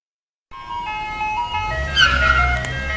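A cartoon ice cream truck plays its tinkling chime melody, entering after a half-second of silence and rising slightly in loudness alongside a faint vehicle hum, with no voices over it.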